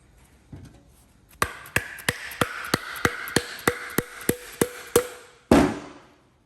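A bushing is tapped into the front upper suspension of a Ford Ranger, Everest or BT50: about a dozen sharp, evenly spaced hammer strikes ring close and loud, followed by one heavier final knock.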